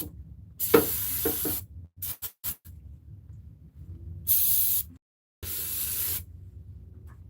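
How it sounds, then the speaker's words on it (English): Aerosol brake cleaner sprayed onto a 2018 Ford Explorer 3.7 engine during timing chain and water pump work, in several loud hissing bursts of varying length with short gaps between them and brief clicks. "I'm just using me some regular brake cleaner."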